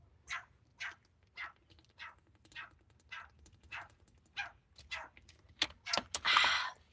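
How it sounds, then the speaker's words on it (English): Dogs bark at a dog beach in Spain, a series of about a dozen distinct barks at a moderate distance, spaced roughly every half second and growing louder and denser toward the end over faint background noise. "there's a lot of dogs that they're gonna bark"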